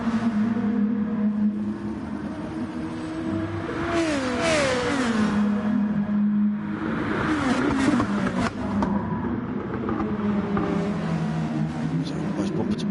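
Nissan race cars run bumper to bumper in a Gr2 Cup race at Sardegna, engines droning loudly together with pitch swooping as they brake and accelerate through a corner, while a commentator talks over them.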